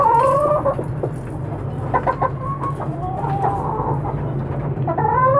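Backyard chickens cluck repeatedly at close range around a feeder, with a steady low hum running underneath and no talking.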